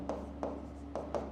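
Pen or chalk strokes writing out an algebra solution, four short scratchy marks in a quick uneven rhythm over a low steady hum, close and fairly quiet.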